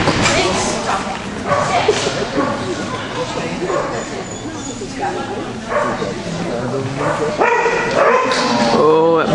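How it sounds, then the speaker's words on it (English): A dog barks and yips repeatedly nearby, loud bursts mixed with whimpers, while people talk over it. "that barking starts"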